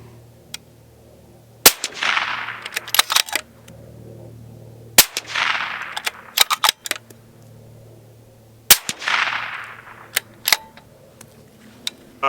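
Three suppressed rifle shots from a Bolt TL35 fitted with a CGS Hyperion QD suppressor are spaced a few seconds apart. Each is a sharp crack with a hissing tail, mixed with clicks and clanks of bolt handling and no talk.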